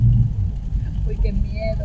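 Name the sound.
thunder during a tropical rainstorm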